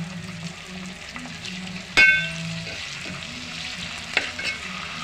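Chopped tomatoes fry for an egg curry in a pan, with steady sizzling under stirring and a sharp metallic clang of a spoon against the pan midway, plus a lighter tap later.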